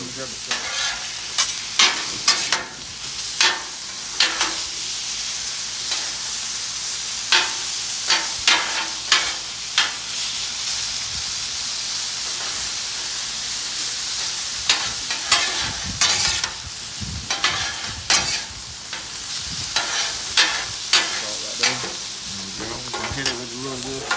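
Chicken fried rice sizzles in a hot pan in the Stillery kitchen in Nashville, with a steady frying hiss under repeated scraping stir strokes throughout; no one speaks.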